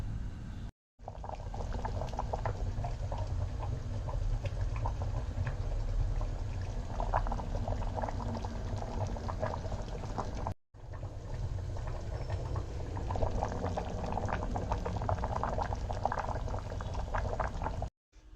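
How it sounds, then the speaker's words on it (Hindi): Potato and pea curry boils uncovered in a pot, a continuous bubbling and gurgling close by that cuts out briefly twice. "अभी मैं इसको अच्छे से खुला उबालूंगी"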